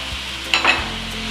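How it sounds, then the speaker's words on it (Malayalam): Two finely chopped green chillies hit a hot pan in a Kerala-style prawn roll filling, giving a brief close sizzle and stirring scrape over a steady frying hiss. "ഇതിപ്പോൾ 2 പച്ചമുളകാണ് ചെറുതായി അരിഞ്ഞത് ഇടുന്നത്"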